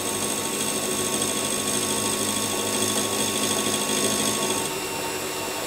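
A machine cuts a small chamfer on a sharp metal edge, producing a steady mechanical whir with a dense broadband hiss that runs evenly throughout, dropping slightly in intensity near the end.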